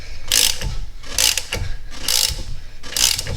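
A ratchet clicks in four short, evenly spaced bursts as it turns the installation bolt, pressing a harmonic balancer onto a C5 Corvette engine. The bursts are close and crisp, with no talk.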